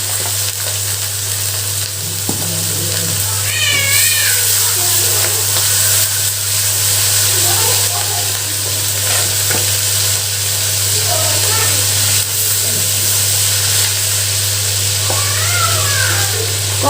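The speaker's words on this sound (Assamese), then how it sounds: "এয়া কেৰাহী এতিয়া গৰম হৈছে, মই মাছকণ অকণমান ভাজি ল'ম।" Hilsa fish rubbed with salt and turmeric frying in a hot wok, a steady broadband sizzle that holds for the whole stretch, with faint clatter and a few chirpy background squeaks on top.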